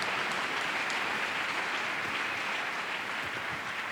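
A church congregation applauds together, a steady dense clatter of many hands clapping without a break, loud and close throughout.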